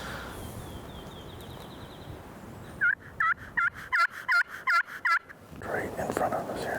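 A wild turkey gobbler gobbles in a rapid run of about eight loud, rattling calls during a spring hunt over decoys in the Roanoke game lands of Mitchell County, North Carolina, with quiet woodland ambience before and after.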